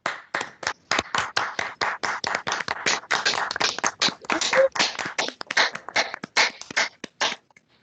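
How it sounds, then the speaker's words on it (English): An award ceremony audience claps for an honoree, a close, rapid patter of hand claps that builds, holds steady for several seconds, then thins out and stops. "let's give Christopher a round of applause"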